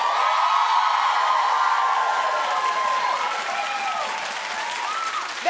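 A television talk show studio audience applauds loudly and steadily, a dense wash of clapping from a large crowd that holds strong for several seconds with a few faint whoops mixed in.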